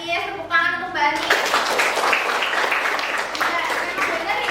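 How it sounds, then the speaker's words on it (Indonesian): After a brief spoken line, a classroom of students breaks into steady, fairly close applause that continues to the end, clapping for a classmate during a lesson. "Tepuk tangan untuk Mbak Anis."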